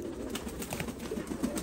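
Soft low cooing from Saleti Kamanghar pigeons in Punjab, several faint overlapping coos.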